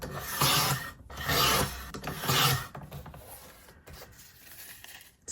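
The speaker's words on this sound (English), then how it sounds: "I can easily cut 3/4 inch strips" A blade slicing 3/4 inch paper strips for a card makes three long, close rasping strokes, one after another, then a few lighter scraping sounds that fade out.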